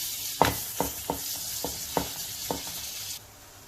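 Sindhi koki flatbread sizzles on a hot griddle as butter or desi ghee is spread over it, with a steady close sizzle and several sharp scraping taps before the sound drops off near the end.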